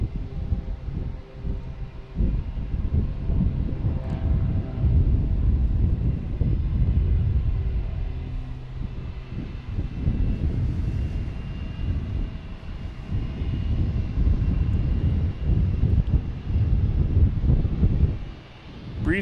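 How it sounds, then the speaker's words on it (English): A Delta Embraer E-170 airliner coming in to land at Boston Logan, its engine roar a steady, fairly loud rumble that swells near the end, with some wind noise and no talk. "Next coming in is a Delta and E-170 coming in from JFK."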